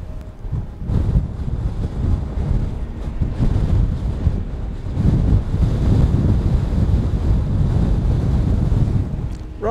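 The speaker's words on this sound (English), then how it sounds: "Let's get out of this wind." Strong wind on an open hillside buffets the microphone in loud, continuous rumbling gusts that rise and fall for nearly ten seconds with no other sound.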